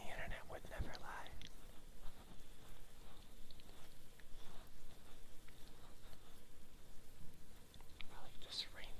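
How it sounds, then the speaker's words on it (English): Soft rain falls in the background as a steady faint patter, with close whispering and mouth sounds over it. "I like this rain sound in the background."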